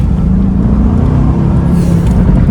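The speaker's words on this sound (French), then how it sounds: "On entend même les autres voitures ronronner." Car engines purr on a Moroccan mountain road, close to an Mercedes-AMG GT C and an Aston Martin Vantage N430, a loud, steady low rumble with a slight rise in pitch toward the end.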